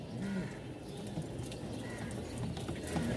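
English Rider pigeons coo in brief low notes over a steady, busy background hum, with a few soft calls scattered through the short stretch.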